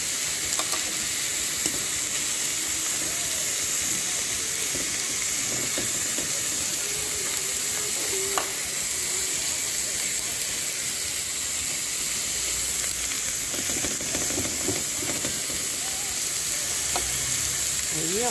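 Meat searing in a hot pan, a loud continuous sizzle and hiss held steady throughout, with faint stirring clicks and occasional background voices.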